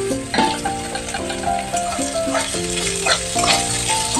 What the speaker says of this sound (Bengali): এটা একটু ভেজে গেলে আমি একটু পোস্ত দেবো, গোটা পোস্ত ছড়িয়ে দেবো